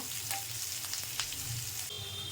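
Onions, curry leaves and coriander sauté in a pan with two dried red chilies, giving a steady, close sizzle that crackles softly throughout with no voices.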